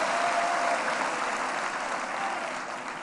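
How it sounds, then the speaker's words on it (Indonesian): Continuous audience applause during a party national working meeting speech, a broad, even roar of clapping from a large crowd that holds steady and eases slightly near the end. "berikan tepuk tangan."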